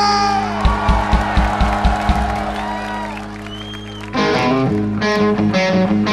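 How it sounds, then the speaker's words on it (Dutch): An outdoor liberation festival crowd applauds and cheers over loud stage music with a pounding beat, with whoops and shouts rising in a louder burst near the end. "Mag een applaus voor Benjamin!"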